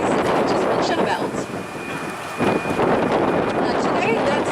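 Strong wind buffets the microphone as a steady, loud roar with gusting swells along a bay shore in Noumea, where windsurfing and water activities are on offer, continuous throughout with no clear voices.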